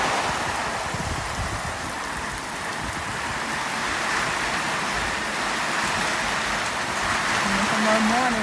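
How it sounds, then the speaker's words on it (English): Steady rain falls around a small shelter on a seawall, a continuous close hiss of drops spattering on hard surfaces, with faint voices murmuring underneath. "And we are sheltering from the rain."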